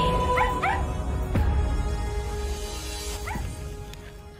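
A cute dog in a mobile app advert whimpers and yips in short rising cries, then gives a few soft barks, all close and clear over a low background hum.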